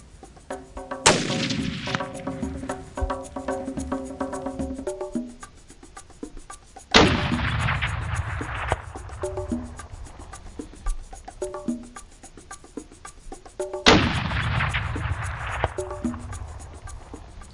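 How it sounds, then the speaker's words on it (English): A .30-06 rifle firing 150-grain bullets on a blue wildebeest hunt in South Africa gives three loud, sharp reports spaced several seconds apart. Each one rings out in a long echoing tail, with no talking. "used a 30-06 with 150 grain bullets for this one-shot kill"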